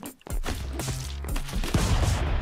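Gunfire in the Stick Fight video game, a quick burst of sharp shots and impacts, moderately loud and close, with no speech over it.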